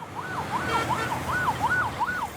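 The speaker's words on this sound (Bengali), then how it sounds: "অথচ ঢাকায় অ্যাম্বুলেন্সে ব্যবহৃত হয় 110 ডেসিবেল।" An ambulance siren wails loudly on a busy Dhaka street, rising and falling in quick repeated cycles over a dense rumble of road traffic.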